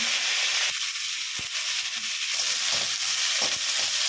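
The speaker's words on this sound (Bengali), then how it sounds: "এবার আমি উচ্ছেটা দিয়ে দিচ্ছি" Sliced bitter gourd hits a pan of dal tempered with dried red chillies, mustard seeds and radhuni, giving a loud, steady sizzle with a sharp burst of frying as it goes in and a few clinks of stirring.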